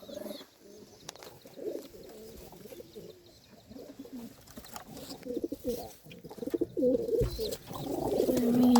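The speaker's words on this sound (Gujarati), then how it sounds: "દેખો મિત્રો, બધા કબૂતરા છે." Several pigeons coo in low, throaty, repeated calls, growing louder toward the end, with rustling and faint background noise.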